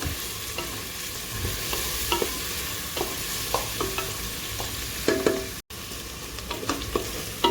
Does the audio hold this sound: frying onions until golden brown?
yes